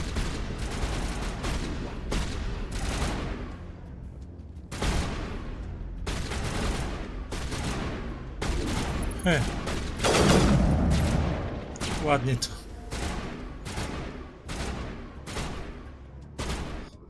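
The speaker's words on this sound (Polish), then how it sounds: "Oni tam się ostrzeliwują tylko do tego gościa." Gunfire in a firefight from Mass Effect Legendary Edition, with repeated bursts of rapid shots and louder blasts coming in clusters and brief pauses, while someone talks briefly over it.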